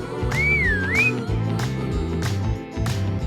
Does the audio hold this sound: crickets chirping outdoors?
no